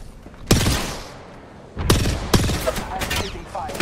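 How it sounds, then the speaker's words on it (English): Rapid weapon fire in the battle royale game Apex Legends, with several loud bursts of shots cracking out close by in quick succession amid other game noise, and players talking over the action. "You need to shoot this guy, Jordan."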